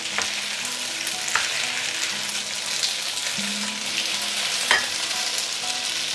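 Flat rice noodles stir-fry in a hot wok to build char, a loud, steady sizzle with occasional scrapes and clanks of the spatula against metal, no talking.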